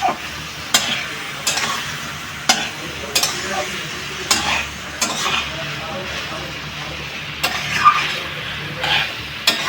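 Spices stirred and fried with a splash of water in a pan for a drumstick and cumin vegetable curry, giving a steady sizzle broken by repeated sharp scraping strokes of the spoon about every second, close and moderately loud.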